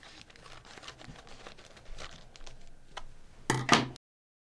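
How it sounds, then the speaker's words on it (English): Quiet crinkling and small ticking handling noises, then a brief, louder burst of cutting and crinkling before the sound stops. "I just take my scissors and cut this area out"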